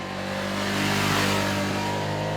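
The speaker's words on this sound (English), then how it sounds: "It's the most civilized Ducati engine that I've ever ridden." A Ducati Multistrada V2S motorcycle engine pulling while being ridden, a smooth, steady, fairly loud hum with a slight swell in the middle and no voices.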